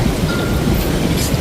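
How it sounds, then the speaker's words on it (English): Strong wind buffets a microphone outdoors in a garden, a loud continuous roar with gusty rumbling across the short stretch and no voices. "Very windy today."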